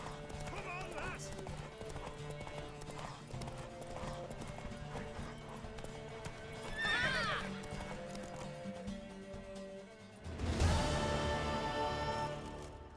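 A horse gallops with fast rhythmic hoofbeats and neighs in The Witcher 3, with a rider's shouts and speech over the running and a louder burst near the end.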